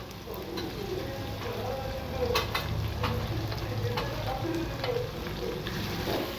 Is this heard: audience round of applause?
no